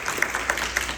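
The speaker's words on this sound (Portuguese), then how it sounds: "Vamos aplaudir essa palavra." A Catholic charismatic prayer group applauds after a scripture reading, a brief, steady patter of scattered hands clapping in a room, moderately loud with a few sharper claps standing out.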